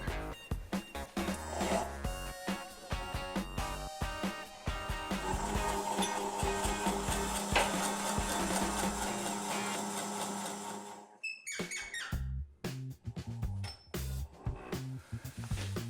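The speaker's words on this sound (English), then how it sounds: "my Jacob's chuck up with a drill, 15/16 inch Forstner bit to make the recess for my logo coin." A drill fitted with a 15/16 inch Forstner bit bores a recess into chokecherry wood for a bowl, a busy close whirring and chattering that runs for about ten seconds, then cuts off, leaving brief clinks.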